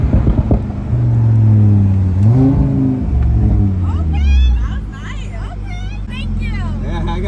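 A loud engine roars and rises in pitch as a Stage 2 Audi RS3 accelerates hard, shifting gears, with excited voices shouting over it toward the end.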